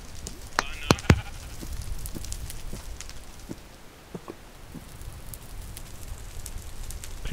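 A singed Minecraft sheep near lava and burning trees gives a couple of short bleats early on, over a constant crackling, hissing fire.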